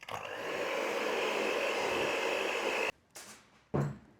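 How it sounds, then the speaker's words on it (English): An electric mixer beats eggless butter cake batter with sugar, giving a steady loud whirring drone for about three seconds before it cuts off, then a couple of brief bursts as it restarts and stops. "Now you would want to beat it really well until it becomes, everything is mixed well, the sugar dissolves well, and we'll beat one final time."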